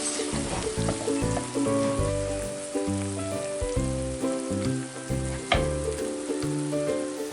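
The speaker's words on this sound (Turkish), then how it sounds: "Evet domatesimiz de kavruldu soğanlarımızla birlikte." Tomatoes and onions frying together in a pan for a çökelek kavurması dish, giving a loud, steady sizzle with stirring throughout and faint tonal sounds in the background.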